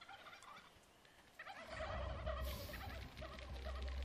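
Turkeys gobble in the survival video game How to Survive 2, a loud, steady run of gobbling calls that swells after a quieter opening and continues to the end.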